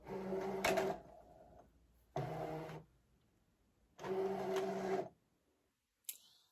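A Brother ScanNCut DX cutting machine pulls in a loaded mat, making three close mechanical whirring runs of about a second each with short silent gaps, followed by a faint click.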